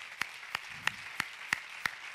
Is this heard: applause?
yes